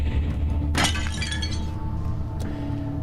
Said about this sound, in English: There is no way it had enough force left in it to shatter at that point.